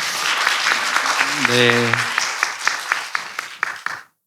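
Applause at a youth climate conference closing ceremony as the minister comes up for the closing speech, steady clapping from the audience with a short spoken word partway through, ending abruptly.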